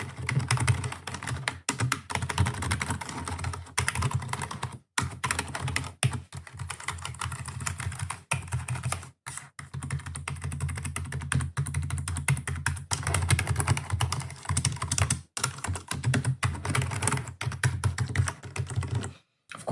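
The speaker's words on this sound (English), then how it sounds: "let me press keys to just show you what it sounds like. This is the Logitech K120" A Logitech K120 keyboard is typed on continuously and up close for about twenty seconds. Its soft, muted keystrokes run in quick, uneven bursts with a few brief pauses.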